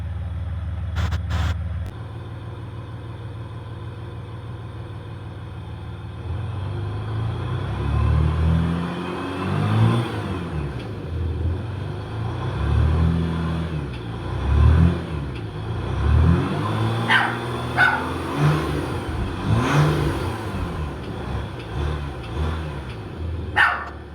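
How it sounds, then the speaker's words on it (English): A Jeep Gladiator EcoDiesel with an MBRP cat-back exhaust idles with a low, uneven exhaust rumble that rises and falls, while a dog barks intermittently nearby. "at idle, it's just a little bitty bit of a rumble"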